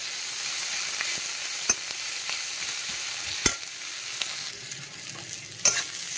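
Onions fry over high heat in a pan, making a soft, steady sizzle broken by a few sharp clicks from stirring, with no voices.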